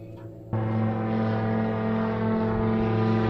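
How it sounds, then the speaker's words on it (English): An airplane passes overhead near a small regional airport, its steady droning engine hum with strong sustained tones coming in abruptly and holding loud and constant, no voices over it. "Cool plane going overhead."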